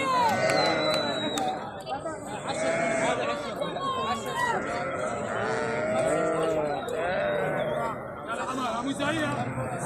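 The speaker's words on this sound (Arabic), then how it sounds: "غنم" A crowd of sheep bleat loudly and continuously at the Kirkuk livestock market, with overlapping cries over steady crowd chatter and voices.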